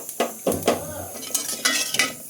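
Small chopped shrimp added to a cooking pot for greens, with a few brief metallic clinks and scrapes of utensils against the pot at irregular intervals, near and fairly quiet.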